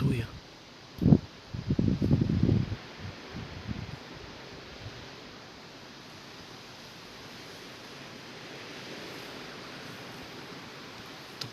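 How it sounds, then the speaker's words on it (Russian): Strong night wind from a cyclone storm roars as a steady broadband rush, with a few louder bursts of speech and handling near the start before the gusting wind carries on alone. "Такое ветрило."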